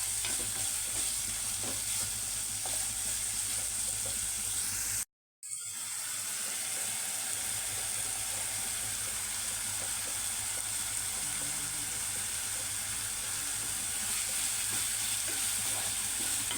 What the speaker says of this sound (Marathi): कांदा चांगला परतून घ्यायचा आहे याच्यामध्ये व्यवस्थित छान कांदा फ्राय करून घ्यायचा आहे